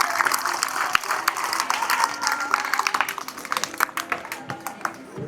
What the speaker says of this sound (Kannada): ಚಪ್ಪಾಳೆ ಬರಲಿ